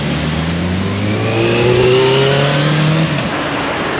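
Busy street traffic in Palermo, with an engine revving up and sweeping past close by. It rises in pitch and then fades against a constant background roar of vehicles.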